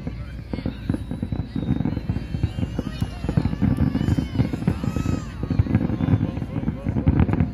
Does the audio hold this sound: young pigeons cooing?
no